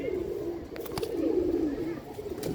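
Punjabi pigeons from a breeding pair coo in a low, wavering call that swells through the middle and fades again, fairly close, over a soft steady background.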